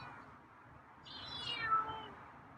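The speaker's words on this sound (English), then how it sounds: "Oh, that's some meow." A feral cat lets out one faint, drawn-out meow that rises and trails off, heard alone against quiet background hiss.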